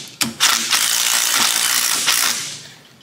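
A small 12-volt power gun works on a bolt during a broken-bolt repair, firing several rapid rattling mechanical bursts close by, the impacts loud and clattering over about two seconds.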